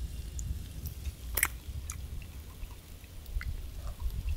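Someone takes a quick taste of a breakfast cooked outdoors, with faint, soft chewing close by and a brief sharper bite, then quiet.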